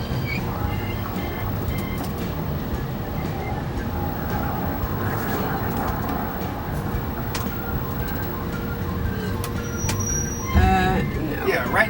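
An RV motorhome drives forward during a driving lesson, its cabin filled with a steady rumbling engine and road hum, with a rattle and a louder bump near the end.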